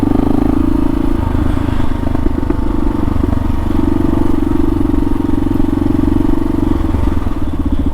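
A Kawasaki KLR650 motorcycle rolls through downtown Estes Park, Colorado, its single-cylinder engine thrumming steadily and close, mixed with wind rush and road rumble throughout.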